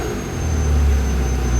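Ferrari F355 project car with fault codes and an idle problem, its engine idling at very low revs with a steady, deep rumble close by and no talk.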